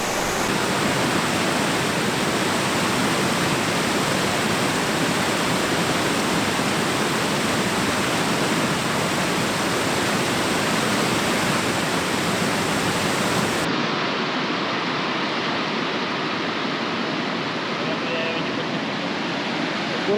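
A waterfall on a forest river roars steadily and loudly, a dense unbroken rush of falling water that fills the whole clip and shifts slightly in tone partway through.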